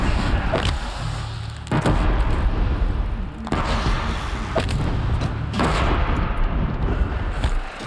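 Explosions in Horizon Zero Dawn, several heavy booming blasts and thuds landing at uneven intervals over a rumbling, dense combat background.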